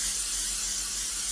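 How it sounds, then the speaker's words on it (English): Cooking spray hisses steadily from a can onto the bottom of an 8x8 inch baking pan, one short continuous loud spray filling the moment with no talk. "you're going to spray the bottom only"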